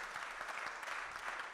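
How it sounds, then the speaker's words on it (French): Steady applause from a conference audience, continuous clapping at a moderate, fairly distant level. "je voudrais qu'on les applaudisse, Camille, Paul et Jean-Marc."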